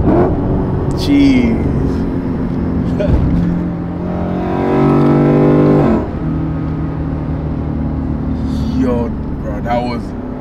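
A 450hp Lexus ISF accelerates hard with rumbling exhaust and rev jumps from downshifts, heard from inside the car under excited talk, loudest in the middle.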